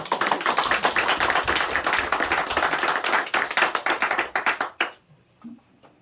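A church congregation claps in warm, energetic bursts for nearly five seconds, with sharp individual hand claps audible within the mass, then the clapping stops abruptly, leaving near silence.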